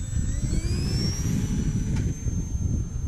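A HobbyKing Cessna TTX RC model plane whines steadily through its takeoff run, with rising and shifting electric motor tones over constant wind-buffeted rumble close to the microphone.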